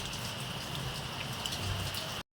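Steady rain falls in a continuous even patter on surfaces, moderately loud and unbroken until an abrupt cut at the end.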